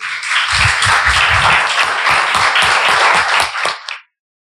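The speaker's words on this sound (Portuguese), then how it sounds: "Você poderia aplaudir o Senhor mais uma vez?" A church congregation applauds in a dense, steady burst of many hands that ends abruptly after about four seconds, close and loud.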